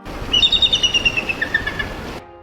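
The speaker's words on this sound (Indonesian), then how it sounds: "Sementara elang potak punya suara yang lantang." A changeable hawk-eagle gives a loud series of shrill, slightly metallic whistled call notes in a quick rhythm, clear and close, alone for about two seconds before cutting off.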